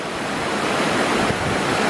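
Sherman Falls in Ancaster, Hamilton, Ontario, pours in winter as a steady, dense rush of falling water, loud and unbroken with no voices.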